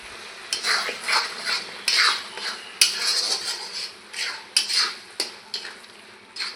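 A spatula stirs pointed gourd (potol) paste with spices and salt in a pan, giving rhythmic close scraping strokes about twice a second over a light sizzle, with no speech.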